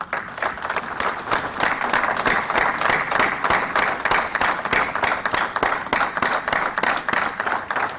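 Sustained audience applause for the presiding officers of model courts at a formal address, dense and steady throughout, with scattered individual claps standing out.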